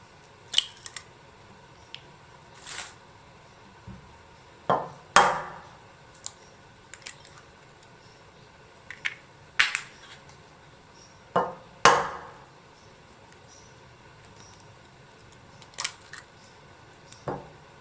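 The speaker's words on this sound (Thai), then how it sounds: "ตอกไข่ไก่ใส่ลงไปในถ้วยผสม3ฟองค่ะ" Three chicken eggs are cracked into a mixing bowl one after another with sharp taps against the bowl's rim, spaced a few seconds apart, followed by soft wet drops.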